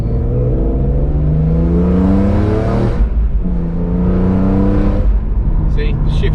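A BMW E46 M3 CSL with an SMG automated gearbox accelerates hard, its engine note climbing loud and close, broken by two quick gear shifts that briefly drop the pitch before it rises again.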